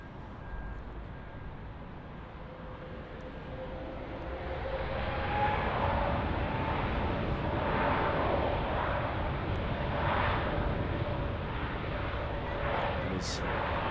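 A Lufthansa Airbus A320neo airliner at Munich Airport rumbles in the distance as a broad engine roar that swells and holds, with someone talking over it.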